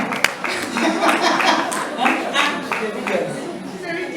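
An audience claps in a round of applause for a mother called up on stage at a young engineers program event, with a speaker's voice continuing over the steady clapping throughout.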